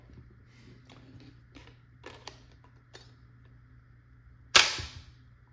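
Valken M17 less lethal launcher running at 875 PSI: a few faint mechanical clicks and ticks, then one sharp, loud pop near the end that decays quickly.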